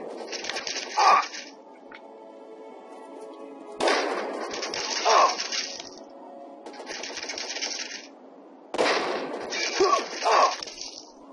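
Grenade explosions in Fallout 3 at a military base, a few sharp bursts with crackling tails spaced several seconds apart, loud and close, separated by quieter stretches.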